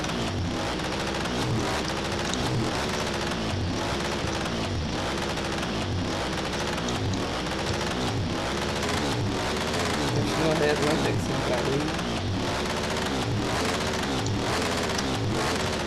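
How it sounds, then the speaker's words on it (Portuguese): A new motorcycle's engine drones steadily while riding at around 170, with constant wind rush, as someone talks over it. "A moto nem tá correndo muito"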